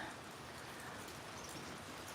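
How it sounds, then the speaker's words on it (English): Rain falls steadily on a cold, windy day, a dense continuous hiss of drops heard close up without a break. "It's raining and it's windy."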